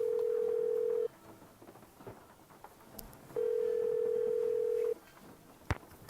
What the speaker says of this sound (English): Let's go make a phone call.